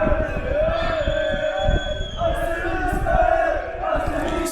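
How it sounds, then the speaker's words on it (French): A football stadium crowd roars and chants in celebration of a Concarneau equalising goal, with loud massed voices close by and individual shouts rising above the din. "La foule est en délire, égalisation de Concarneau."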